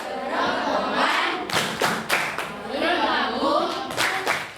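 A school class chants a lesson rhyme in unison, cut by several sharp rhythmic hand claps in quick bursts and a thump or two, with the group voices loud and dominant throughout.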